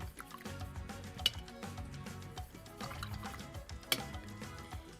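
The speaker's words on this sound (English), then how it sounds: "Let's go ahead and rinse out." A paintbrush swishes and rinses in a water cup during a spring flower painting, giving soft close liquid sloshes with a couple of sharper taps against the container, quiet and without speech.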